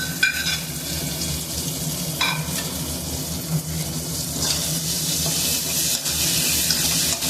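Onions and tomato fry in a pan for a fish dish, crackling with a dense, steady sizzle while a spoon stirs them in occasional scraping strokes.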